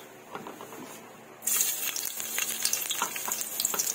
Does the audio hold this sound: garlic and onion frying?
yes